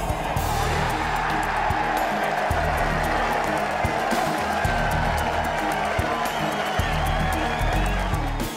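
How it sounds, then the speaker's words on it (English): A large golf gallery at Muirfield during The Open roars and cheers after an eagle three, a dense, steady crowd noise heard from a distance that holds throughout. "that was probably the loudest cheer I heard all week"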